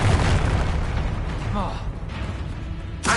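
A Confringo explosive spell blasts in Hogwarts Legacy, a rumbling boom with a sharp crack at the close, mixed with game clatter and a brief voice.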